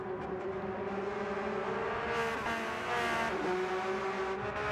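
Porsche Cup race cars roar around Interlagos in a racing game, several engines droning close together at high revs with shifting pitch as they pass and jostle.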